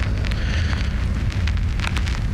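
Steady rain falls without a break, a dense broadband patter with a low rumble beneath it and a few brighter drop-like spikes, loud and close throughout with no voices.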